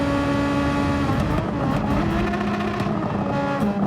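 A Super Formula open-wheel race car engine in Gran Turismo 7 at Suzuka, screaming at high steady revs and bouncing off the rev limiter, loud and close, with no talk over it.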